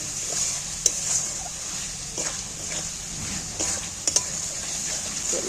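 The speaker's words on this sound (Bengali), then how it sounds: "এইবার আমি ভালো করে কষিয়ে নেব" Chopped eggs frying and being stirred in a pan for an egg and red lentil curry, with a steady sizzle and occasional clinks of the spatula against the pan.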